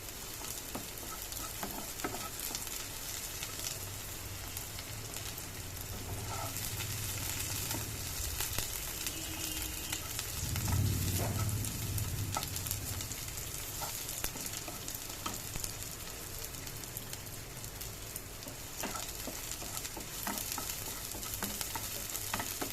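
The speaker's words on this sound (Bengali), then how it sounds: "পেঁয়াজটা ভাজা হয়ে এসছে।" Onion fries in a pan with red and green chillies, a continuous sizzle and crackle lasting throughout, with occasional stirring scrapes and a brief louder burst midway.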